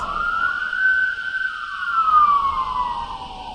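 A wailing siren rises and falls slowly at a moderate distance, steady and clear over a quiet background, with no voices.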